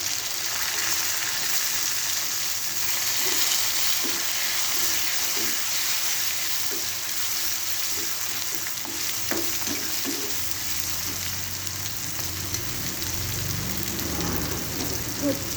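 Tomatoes go into hot homemade black masala, red chilli powder and spice oil in a pan, setting off a continuous rain-like sizzle with occasional stirring scrapes and taps, no talking.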